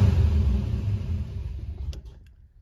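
A Mopar Slant Six engine with a remanufactured Holley 1920 carburetor rumbles close by, then fades and stumbles toward stalling, the rough running dropping off sharply near the end.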